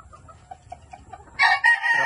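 A gamefowl rooster, a fighting cock with freshly trimmed spurs, crows loudly and close by in a sudden burst, after a quieter stretch of faint clucking and farm background.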